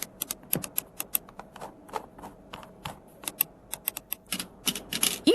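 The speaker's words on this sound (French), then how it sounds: "sur le clavier, elles saisissent les titres du journal" Newspaper office staff type headlines on a computer keyboard, with close, crisp clicks coming in irregular quick bursts separated by short pauses.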